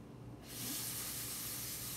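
Keto zucchini turkey burger patties dropped into warm oil in a pan, a sudden loud sizzling hiss that starts abruptly and holds steady, close and continuous with no talk.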